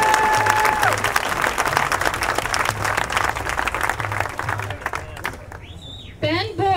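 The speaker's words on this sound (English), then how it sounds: "Let's give her a round of applause." An outdoor crowd at an Occupy Santa Rosa rally claps in loud, steady applause, with scattered voices, whistles and shouts rising over it before it thins out near the end.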